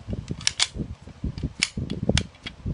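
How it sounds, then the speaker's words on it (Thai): A pistol slide is racked and locked back while a half-ejected round is cleared from the magazine, giving a few sharp metallic clicks and clacks close to the mic against low handling thumps. "ที่ผมแก้ไขก็คือ ค้างสไลด์ก่อน"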